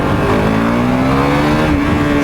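A KTM RC390 motorcycle engine revs hard and accelerates, a loud, close, continuous drone that climbs slowly in pitch over the whole stretch.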